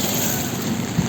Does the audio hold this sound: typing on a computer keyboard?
no